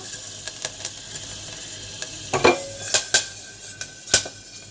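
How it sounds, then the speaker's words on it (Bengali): Whole cardamom, black peppercorns and cloves dropped one by one into hot oil in a pan for a chicken stew: a low background sizzle with several sharp clicks and pops as the spices land, close and fairly loud. "এবার আমি এক এক করে সবার প্রথমে দিয়ে দিচ্ছি এই যে এলাচ গোলমরিচ আর লবঙ্গগুলো"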